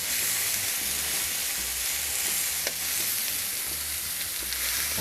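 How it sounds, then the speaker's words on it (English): Beef shish kebab pieces sizzle steadily on a hot cooking surface, a dense, continuous crackling hiss with a few sharper pops, close and fairly loud, with no voices. "Here goes our beef. Nice sizzle."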